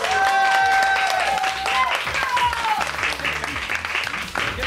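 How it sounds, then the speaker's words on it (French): A crowd at the opening of a LAN gaming event gives loud, continuous applause with cheering mixed in, and a steady pulsing beat sounds underneath. "sous vos applaudissements"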